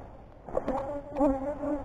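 Bees buzz close by a horizontal 33-frame beehive with a wavering, droning hum that rises and falls as they move around.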